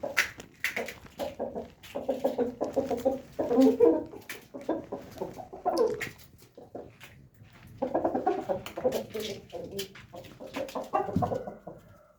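A hen clucks repeatedly while pecking at eggshells, giving close bursts of short clucks and murmurs in irregular clusters separated by quieter pauses, with no talking.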